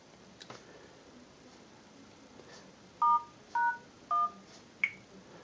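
Samsung Galaxy S2 keypad tones as a code is dialed to enter engineering mode: four short, distinct beeps in an uneven sequence over a quiet room hiss with faint taps.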